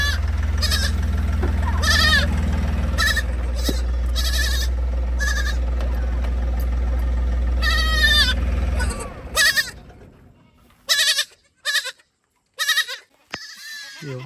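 Goats newly brought into a farm shed bleat repeatedly, loud and close over a steady low electrical hum; the hum cuts out partway through, leaving a few sharper, separated bleats in quieter air.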